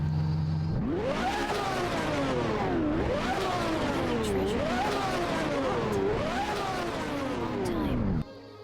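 A car engine in Genshin Impact revs repeatedly in rising and falling sweeps, three or four loud accelerating surges that hold steady before cutting off abruptly at the end.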